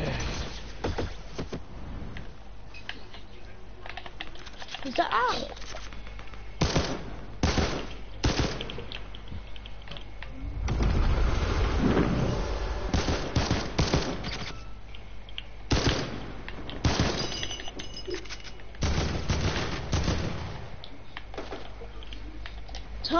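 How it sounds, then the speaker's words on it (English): SCAR assault rifle firing in the video game Fortnite, repeated bursts of rapid gunshots coming in clusters over a background of game noise, with no talking. "Who's got Scar and shooting it?"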